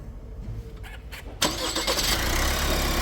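An Opel Astra K 1.6 engine (136 hp), just back from a timing chain repair, cranks and catches, then settles into a loud steady idle nearby, with faint clicks before it fires.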